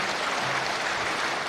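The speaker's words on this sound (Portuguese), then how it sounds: "Peço uma salva de palmas à delegação internacional que está aqui" Steady applause fills a solemn session hall, honouring the international delegation: a dense, even wash of many hands clapping at moderate distance, with no voices over it.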